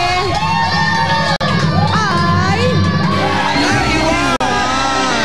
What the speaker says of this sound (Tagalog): palakpakan na may kasama pang sigawan